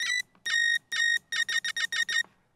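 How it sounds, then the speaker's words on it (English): Electronic beeps made for a high-tech user interface: three long, loud tones, then a quick run of six short ones, all clean and close with silence between. "so we have our first beep sound"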